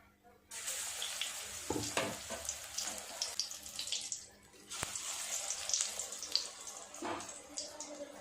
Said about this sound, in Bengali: একইভাবে সবগুলো ভাজা করে নেব।